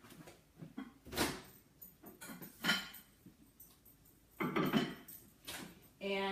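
Summertime spaghetti in a dish being placed into a kitchen microwave: scattered clinks and knocks of dish and utensils, a door-like clunk, and short bumps in a quiet kitchen.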